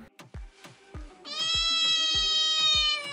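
A toy cat gives a sustained, nasal electronic meow after a series of short sharp clicks and taps from handling, heard close and clear.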